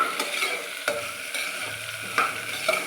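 Potato being stirred in a pan with oil and onion for a breakfast dish: soft steady sizzle with a few sharp spatula scrapes and knocks against the pan, close by and without speech.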